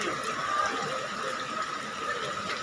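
Rainwater from a heavy downpour rushes and splashes steadily across a road, a continuous close flow with no voices.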